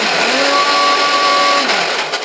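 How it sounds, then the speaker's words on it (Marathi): A mixer grinder grinds spices into a fine powder for a corn chivda masala, giving a loud, steady motor whine and whirring roar that holds without a break and then starts to wind down at the end. "हे सर्व मसाले आपल्याला मिक्सरमध्ये बारीक पूड करून घ्यायचे आहे।"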